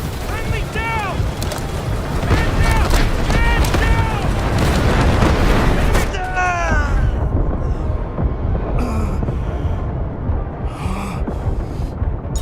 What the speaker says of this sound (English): Artillery barrage incoming.